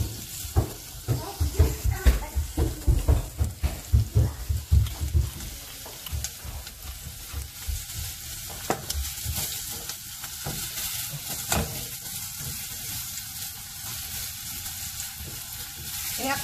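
Garlic and onion sizzle and fry in a pan, loud crackling bursts early on that settle into a steady, softer hiss, with clattering stirring sounds throughout.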